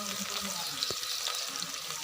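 Chopped onions fry in hot oil in a home kitchen, a steady soft sizzle with occasional stirring clatter, close and continuous.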